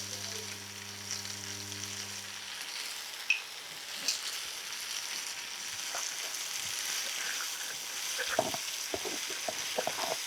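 Chopped vegetables frying with salt in a kadai for paneer kadai give a steady, close sizzle, with stirring scrapes and light clinks scattered through. No one speaks.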